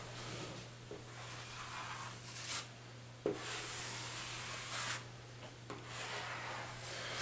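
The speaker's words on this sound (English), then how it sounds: "so I can then scrape it right off." A coating is scraped off an old wooden cabinet during a restoration, giving continuous close rasping strokes with a few louder scuffs and knocks.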